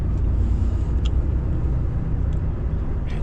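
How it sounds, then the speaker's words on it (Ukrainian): A semi-truck tractor unit driving past on a road, a continuous heavy low rumble holding steady throughout with faint higher hiss and no talk. "вон якийсь тягач їде"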